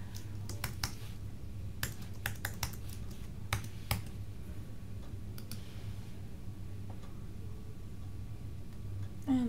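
A password is typed on a computer keyboard in sparse, quiet clicks and small bursts of keystrokes over a faint steady hum.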